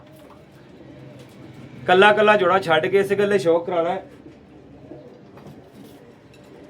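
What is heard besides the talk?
Sialkoti breeder pigeons cooing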